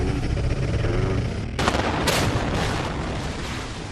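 Controlled demolition blast at the Noida Twin Towers: a dense, roaring rumble with two sharp explosive cracks in close succession partway through, loud and sustained, with no voices over it.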